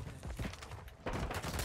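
Rapid automatic gunfire from a SCAR-like three-round gun in a ranked shooter video game, sounding as quiet bursts of shots with a louder stretch of continuous firing in the second half.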